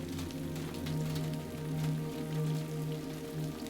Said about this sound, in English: the trickle of rain down the window